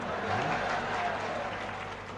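Audience clapping at a Tamil pattimandram debate show, a steady wash of applause from a crowd filling the hall, holding fairly even throughout with faint voices mixed underneath.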